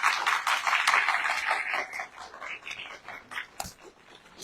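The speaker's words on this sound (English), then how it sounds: "Again, we'll give them another round of applause." An awards ceremony audience claps, starting dense and lively, then thinning into sparse, fading claps with a few isolated sharp ones near the end.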